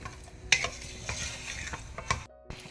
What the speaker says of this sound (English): Keep stirring till the color of the meat changes.